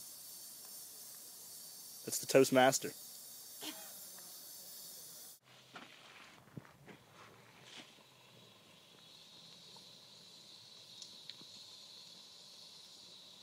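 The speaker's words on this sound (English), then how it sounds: "It's definitely burning real good right now." A microwave oven burns after exploding, its fire fed by lighter fluid: a sharp burst of hissing and crackling, then quieter sputters and pops, with someone speaking briefly.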